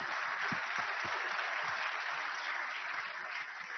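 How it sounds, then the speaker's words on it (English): A conference audience applauds the panelists at a global AI conclave in Bengaluru, a steady, dense wash of clapping that holds evenly from start to finish at a moderate, slightly distant level, with no one speaking over it. "can we have a big round of applause for all our panelists?"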